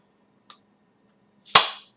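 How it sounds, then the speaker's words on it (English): A small click followed by a sharp pop and brief fizzing hiss as the cap comes off a bottle of Coopers Sparkling Ale, close and loud, in an otherwise quiet room. "See if it makes a big noise like I predicted. Let's see if I can get under the cap"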